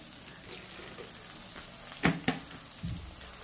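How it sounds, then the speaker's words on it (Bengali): Eggplant and potato fry in a pan with yellow turmeric and cumin powder. A soft, steady sizzle is broken by two sharp clatters near the middle and a dull knock toward the end, and nobody speaks. "দেখতে পাচ্ছ আমার বেগুনটা আলুটা অনেকটা ভাজা ভাজা হয়ে আসছে"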